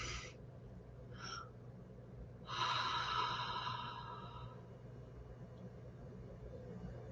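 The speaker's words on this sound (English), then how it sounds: "take a deep breath in all the way down to your diaphragm, all the way down to the diaphragm into the nose first" A person breathing slowly and deliberately, a long nasal inhale followed by a drawn-out exhale through the mouth, close and soft with a brief earlier breath and low background hum.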